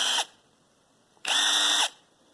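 A cheap cordless 20-volt impact wrench whirs in two loud, close bursts, a brief one at the start and a longer half-second run after a short pause, with no talking.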